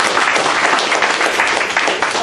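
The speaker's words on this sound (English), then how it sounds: "Give a big hand clap to Jesus." Church congregation breaks into loud, sustained applause and hand clapping during a sermon, a dense steady wash of many hands filling the whole moment with no pause.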